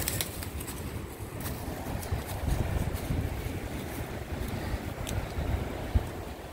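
Strong wind buffets the microphone at an open excavation site, a steady low roaring rush with gusty swells and no voices, sounding broad and close throughout.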